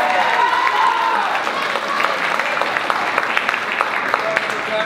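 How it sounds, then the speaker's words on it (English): Audience applause at a high school chamber jazz concert, a dense steady round of clapping mixed with crowd murmur and a few brief voices, holding fairly loud throughout. "Give him a round of applause."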